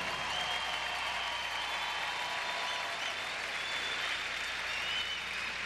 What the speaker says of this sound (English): And Jamie Salle applauding her Canadian teammate.